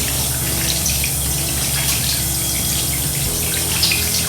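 Warm water runs from a faucet as hands are rinsed, a steady, close gushing stream with a constant low rumble that continues unbroken throughout.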